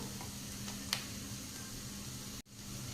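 Garlic, curry leaves, green chilli and onion fry in a pan for a brinjal dish, giving a soft, steady sizzle with a brief tick and a short clatter near the end.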